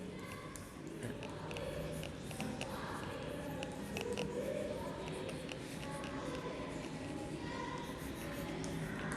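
A pen or pencil scratches steadily across paper while math problem details are noted down, a soft continuous scribbling with small taps, heard close and quiet.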